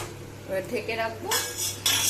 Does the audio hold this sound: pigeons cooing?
no